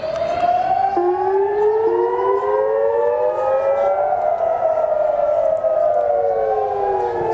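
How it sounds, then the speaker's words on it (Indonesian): A warning siren wails continuously across Iran during Israeli strikes, several tones rising and falling and overlapping, loud and steady throughout with no talking. "Sirine peringatan terdengar di berbagai wilayah"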